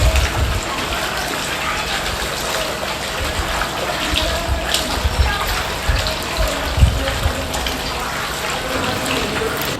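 Water splashes and gushes in a resort swimming pool in Zambales, a continuous churning wash with bursts of low splashing throughout, near and fairly loud.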